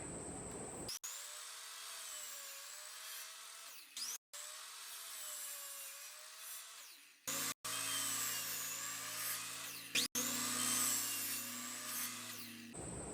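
A power saw cuts 1x2 wood boards into pieces, its whining tone dipping and rising under each cut across several separate passes, with short breaks and a lower droning hum joining in the later cuts.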